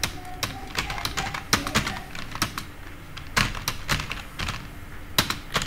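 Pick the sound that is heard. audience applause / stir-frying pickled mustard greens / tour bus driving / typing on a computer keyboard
typing on a computer keyboard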